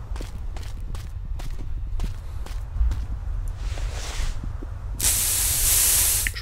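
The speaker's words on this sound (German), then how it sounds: "Sprühen wir uns mal ein bisschen ein." In the hunting game theHunter: Primal, a scent spray releases one loud, sustained hiss lasting over a second, following a series of soft footsteps on the ground.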